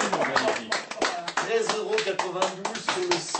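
Audience clapping in quick, uneven bursts, mixed with voices talking and exclaiming over it.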